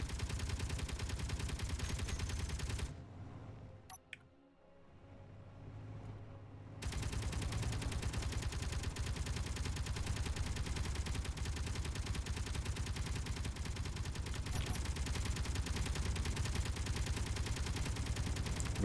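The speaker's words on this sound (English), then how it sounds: "I'll turn on the autocannons and the Gatling turret." Autocannons and a Gatling turret in Space Engineers fire in a dense, continuous rattling barrage, stop briefly for a few seconds of near-silence, then resume the relentless rapid fire until the end.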